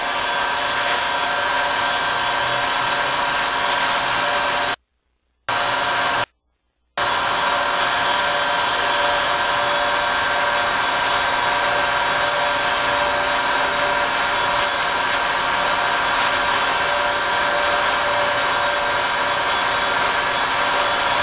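Vacuum pump evacuating a homemade Fleming diode vacuum tube, giving a loud, steady broadband hum and whir that runs continuously, broken only by two short gaps of silence.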